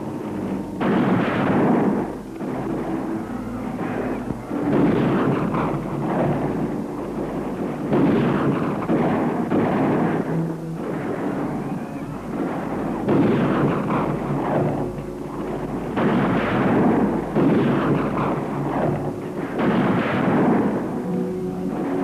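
Sustained heavy gunfire with repeated bursts and booming reports, loud and dense throughout, like a battle around a besieged house with horsemen closing in; no talking.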